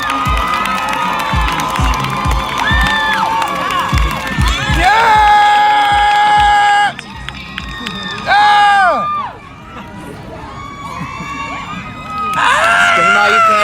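A crowd at an outdoor Black Lives Matter sit-in in Balboa Park, San Diego, cheers, whoops and screams loudly to welcome a singer on stage, in sustained waves with high shrill cries and brief dips between bursts.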